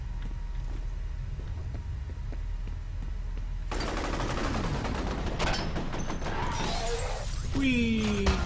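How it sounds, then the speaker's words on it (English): Rapid assault rifle fire from the F.E.A.R. video game starts after a low rumbling lull, loud dense bursts mixed with crashing impacts and sharp tonal game effects near the end. "Assault rifle, yay."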